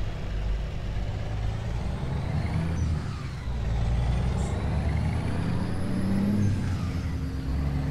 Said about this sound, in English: It's only a 6-cylinder, so it's not got a V8 sound in it